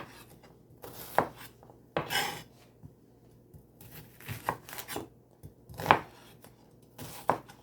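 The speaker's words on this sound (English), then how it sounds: "I'm gonna finish chop up the onions" A knife chops onions on a cutting board while Bajan hot pepper sauce is being made. The close, irregular thuds and scrapes come in small bursts with quiet gaps between them.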